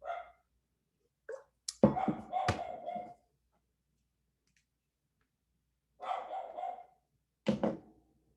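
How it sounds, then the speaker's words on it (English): A dog barks in two bursts separated by a quiet gap, fairly close and loud, with no talking. "can you guys hear that barking?"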